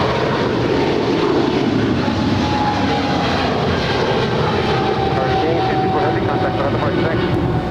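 Heavy Boeing 777 jet departing a runway at Los Angeles airport, a loud, steady engine roar with a faint whining tone, sustained throughout and masking some voice chatter.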